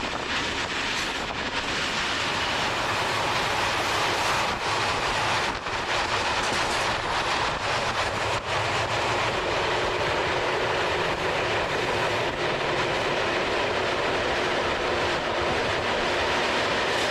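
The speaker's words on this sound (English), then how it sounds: "the train is moving so slow" A slow-moving train in Croatia rolls along the rails, a loud continuous rumble and hiss with faint rhythmic clatter, heard close and steady throughout.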